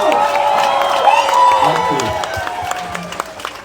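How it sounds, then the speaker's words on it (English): A crowd of residents applauds and cheers for Guyana's president at an outdoor community gathering, with sustained clapping and some shouts beneath a voice speaking over a loudspeaker. "Let's stand and give it up to our president, Dr. Muhammad Irfan Ali"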